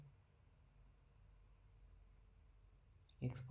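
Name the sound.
computer mouse clicking in NX CAD software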